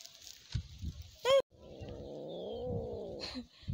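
A cat yowls and growls, ready to fight another cat outdoors in a hill village, with a sharp high cry followed by a long, wavering caterwaul, close and fairly loud, with light background noise.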